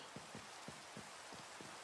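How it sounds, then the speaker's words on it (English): Rain falls steadily in the video game Minecraft, a soft, even hiss of drops with faint low thumps recurring about every third of a second, quiet and alone with no voices. "I'm going to have a good sleep to get this rain to go away."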